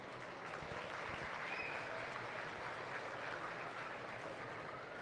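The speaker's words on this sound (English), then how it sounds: "So give them a round of applause and then we'll announce them all." Faint, distant applause from a county fair livestock arena crowd for ten-year club members, a steady wash of clapping heard from afar.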